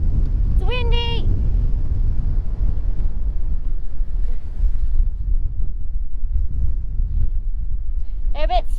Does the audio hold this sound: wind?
yes